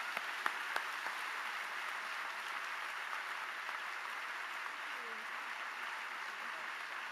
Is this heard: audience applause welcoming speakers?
yes